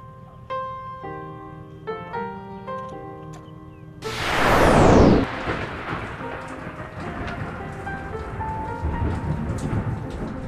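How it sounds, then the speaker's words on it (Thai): After a few seconds of soft melodic notes, a loud thunderclap breaks in and rain keeps falling steadily on a paddy of ten-day-old rice seedlings, a dense even patter with no one talking. "สายฝนโปรยปรายกระทบต้นข้าววัย10วัน"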